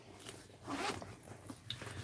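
The zipper on a bag's inside zipper pocket is pulled, making a faint, close, brief scraping rasp with a few small clicks, and no one speaks.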